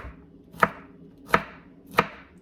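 A knife coarsely chops food on a cutting board with three sharp, evenly spaced thuds, close and loud, each standing alone against quiet.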